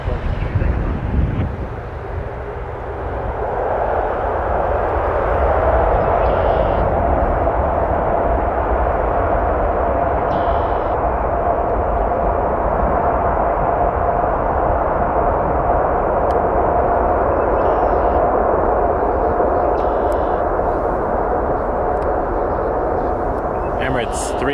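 Emirates Airbus A380 landing on runway 4 right at Toronto Pearson: a swelling, sustained jet roar with a low engine whine, loud and continuous, buffeted by wind noise, and a few faint radio clicks over it.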